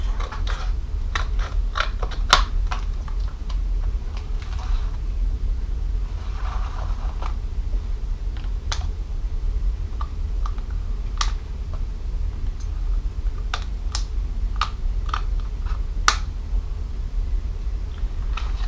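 Scissors snip excess paper from an art journal page in a series of sharp, irregular clicks and crisp cuts, close and fairly quiet over a soft background hiss.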